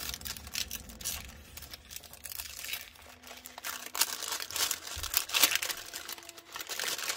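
Paper die cuts are ripped and peeled by hand at close range: irregular crinkling and tearing bursts with small crunches, fairly quiet, with no voices.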